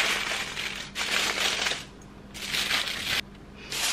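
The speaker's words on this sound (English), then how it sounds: "cover it up with another piece of foil and pinch those edges together and fold it in" Aluminum hair foil folded and pinched at a Japanese hair salon, with bursts of close crinkling and crumpling in uneven pulses separated by brief quieter gaps.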